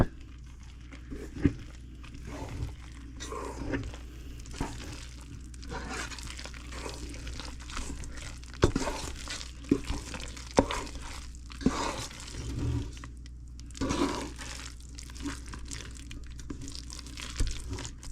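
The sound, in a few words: hand mixing banana bread batter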